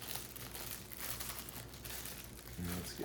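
Thin plastic crinkles and rustles up close as the bag holding a Philips heated and cooling eye massager is handled and opened during an unboxing.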